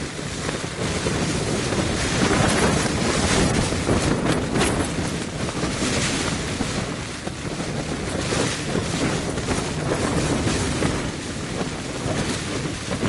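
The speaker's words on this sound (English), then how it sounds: "The wind's really picked up" Strong wind buffets an outdoor wild camp on the Bleaklow moors in heavy rain, a dense, loud, continuous roar of gusts rumbling against the microphone with no voices.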